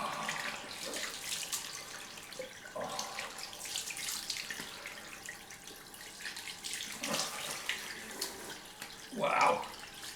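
Water runs steadily from a tap for a cold rinse after a shave, a close, continuous splashing hiss with a few brief louder gushes as hands or a face meet the stream.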